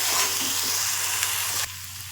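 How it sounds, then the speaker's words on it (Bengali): Chili, turmeric and other spices frying in a pan, a dense close hiss and sizzle that drops abruptly to a quieter simmer near the end, with no talking. "এবারে এগুলো আমি ভালো করে কষিয়ে নেবো মশলাগুলো"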